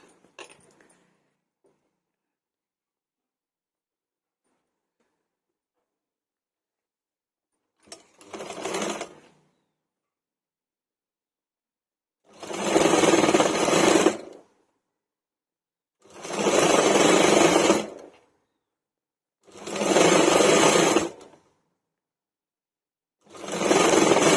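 A sewing machine stitching a blouse runs in loud, close bursts: a short run, then four sustained whirring passes of a couple of seconds each, separated by silent pauses.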